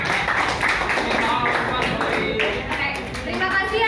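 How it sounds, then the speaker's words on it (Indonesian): Audience clapping after a group poster project presentation in a classroom teaching session, a dense steady patter that fills the room and sounds mixed with crowd noise and voices. "Tolong dikasih tepuk tangan untuk"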